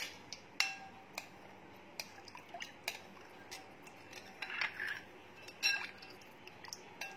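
A spoon clinking against a glass or bowl while kewra is stirred into cold milk, producing quiet, irregular metallic ticks and chinks, close and soft, with no voices.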